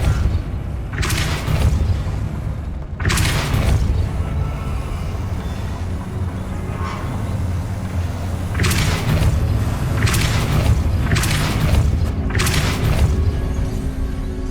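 The Depulso force spell cast in the video game Hogwarts Legacy: a series of loud, booming blasts with thuds, in clusters of two or three and spaced a few seconds apart, over a steady low rumble.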